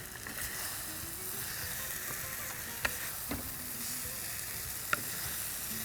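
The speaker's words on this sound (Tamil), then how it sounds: "இப்போ இந்த கத்திரிக்காய் மாங்காய் முருங்காய் வதக்கல் ரெடி ஆயிடுச்சு." Eggplant, raw mango and drumstick sautéing in a pan give a steady soft sizzle, broken by a few sharp clicks of a spoon against the pan.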